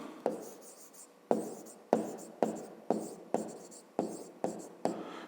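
A pen writes on paper during a fifth-grade maths exercise, drawing a figure: a series of about nine distinct scratchy strokes, each starting sharply and trailing off, close and fairly quiet with no voices.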